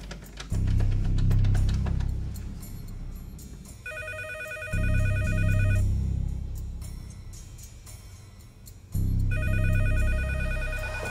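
A home telephone rings in repeated electronic trills, heard in two bursts over loud music and rumbling background noise.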